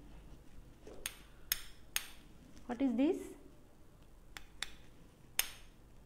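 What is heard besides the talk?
hammer crushing ice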